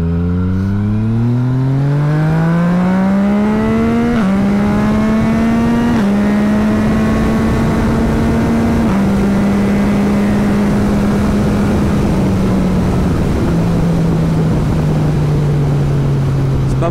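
A 2018 Yamaha MT-09 motorcycle ridden with traction control off, its engine loud and close in a long continuous roar, pitch climbing through the revs with brief shift dips, then holding and easing slowly.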